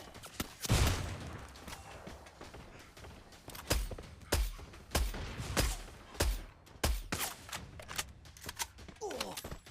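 Gunfire in a Free Fire esports tournament match, several sharp shots and short bursts spaced irregularly, some quick rattles, heard under an excited commentator talking throughout.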